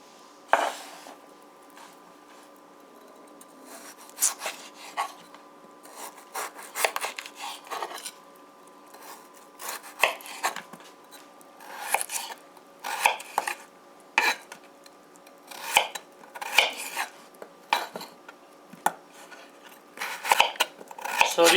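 Knife chopping eggplant and potato into pieces on a board for Guyanese fried bigan and aloo: irregular sharp taps and scrapes, close and crisp, clustered in quick runs with pauses over a faint steady hum.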